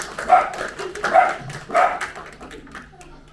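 A dog barks on a festival stage at a van life event, three or four loud, close yappy barks spaced about half a second apart, with faint background murmur.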